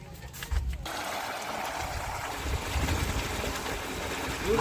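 Water gushes steadily from a borewell pipe, a continuous rushing splash that swells slightly louder toward the end.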